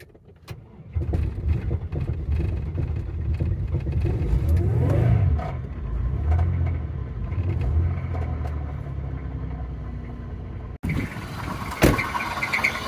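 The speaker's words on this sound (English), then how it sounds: "My car's not even starting now" A car engine churns and strains for about ten seconds in a low, uneven rumble without catching, then cuts out abruptly.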